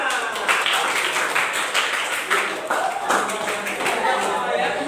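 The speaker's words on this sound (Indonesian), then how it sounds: "Oke, tepuk tangan." Students in a primary-school floor gymnastics lesson on forward rolls clap for the first group to finish, a dense, continuous patter of many hands lasting throughout, with children's chatter mixed in.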